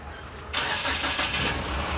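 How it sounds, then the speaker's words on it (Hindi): A Mahindra Bolero BS4 with a DTC P1641 starting problem cranks and fires after half a second of quiet, then settles into a steady, close, mid-pitched engine idle. "गाड़ी स्टार्ट हो गया"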